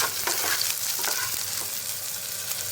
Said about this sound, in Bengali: আমি এখন এর মধ্যে ছেড়ে দিচ্ছি টুকরো করে কেটে রাখা আলু